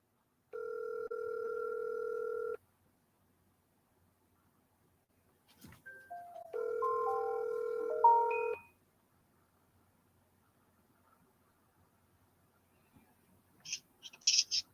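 A telephone on a call gives two long steady ringback tones, the second joined by short melodic keypad-like beeps, separated by silence, with faint clicks near the end; no talking.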